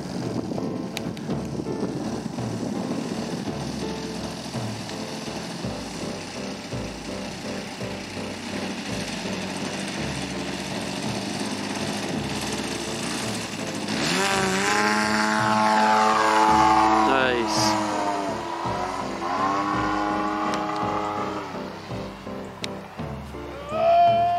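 Extra 300 RC airplane with a 120cc gas engine flies laps in a crosswind, its propeller drone steady and fairly loud throughout, swelling as it passes nearer midway and then easing off.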